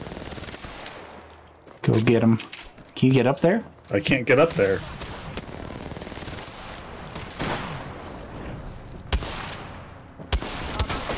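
Gunfire in the Apex Legends battle royale shooter, bursts of rapid shots mixed with game effects under several players talking excitedly, with a couple of sharp cracks toward the end.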